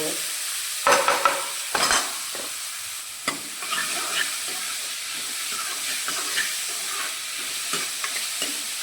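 Onion and green chilli dropped into a pan of toasted cumin, frying with a loud initial sizzle and hiss, then steady sizzling broken by repeated scraping strokes of a spoon as the mixture is stirred, close up with no talking.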